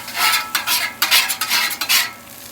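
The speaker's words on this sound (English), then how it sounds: "Keep cooking these onions." Onions cook on a Blackstone griddle while a metal spatula scrapes and stirs them in quick repeated strokes, close and loud over a steady sizzle, with no talking.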